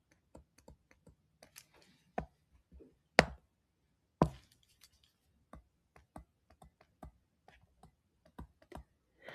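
Keys on a computer keyboard clack in irregular bursts while an equation is entered into Desmos, with close, crisp individual taps separated by short pauses and a few louder strikes.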